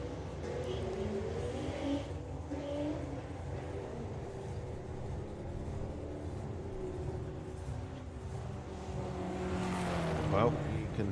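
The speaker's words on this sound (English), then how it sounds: "car going in and out of gear" A race car engine at Bug Jam Festival revs and drops as it shifts through gears, fairly distant and muffled, with a final rising whine near the end.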